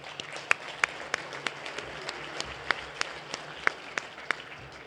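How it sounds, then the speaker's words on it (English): An audience at a Touchdown Club luncheon applauds steadily, a roomful of hands making a dense patter with sharp individual claps popping out, fairly distant, no talk over it. "How about a round of applause for Catherine Stewart?"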